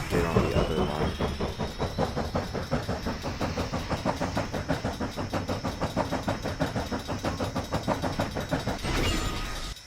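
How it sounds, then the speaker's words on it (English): Locomotive in the High Iron video game under emergency braking, its wheels skidding and sliding: a steady, close, rhythmic rumble with a thin metallic squeal running through it, swelling briefly at the end. "All this emergency braking, wheel skidding, sliding."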